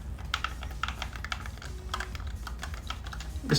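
Rapid plastic button clicks from a GameSir G7 SE Xbox controller, tapping in quick irregular bursts, close up and fairly crisp, with no talking.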